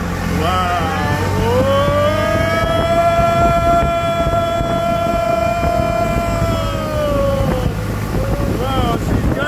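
A tourist boat engine on an interior river route at a Bangkok floating market, roaring loudly at full throttle with a rising then steady high whine, thick wind buffeting on the microphone throughout.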